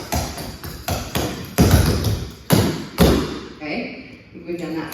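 Tap dance steps with heels, kick slaps and air slaps, a run of sharp close taps and thuds in a quick rhythm while an instructor talks over them.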